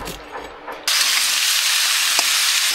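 Vegetables fry in hot oil with a sudden loud, steady sizzle and hiss that starts partway through, preceded by quieter kitchen stirring sounds.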